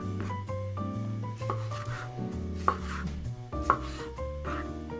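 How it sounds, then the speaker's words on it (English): A knife cuts cored tomatoes on a cutting board for gazpacho, with a run of soft, irregular chopping knocks close by. Background music plays throughout. "We're gonna cut our tomatoes into a similar size as the cucumbers."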